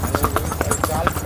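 A Sindhi mare walks with a steady, even clip-clop of hooves, close and continuous through a short stretch, over a constant low rumble of background noise.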